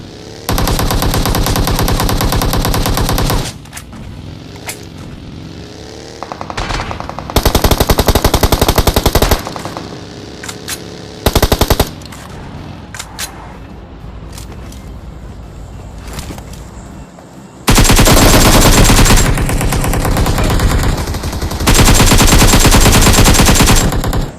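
Bursts of rapid automatic gunfire in a video game, loud and close, alternating with quieter stretches of lighter shots and ambient noise, no talking.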